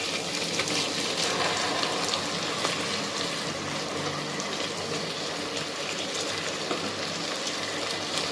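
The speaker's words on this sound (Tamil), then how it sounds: "தயிர் ஊற்றிக்கிறேன்." Yogurt being poured into a pot of spicy egg pulao: a steady wet, gushing liquid sound runs continuously and fairly loud, close by, with no talking over it.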